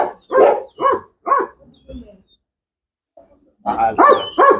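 A dog in protection training barks and growls threateningly in a burst of repeated barks, pauses briefly, then barks again, loud and close.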